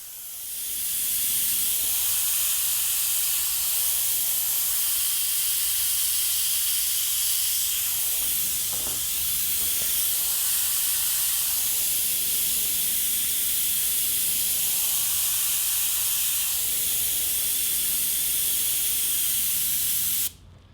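An airbrush sprays transparent orange paint in a continuous, close, steady hiss lasting about twenty seconds, with slight fluctuations and an abrupt stop at the end.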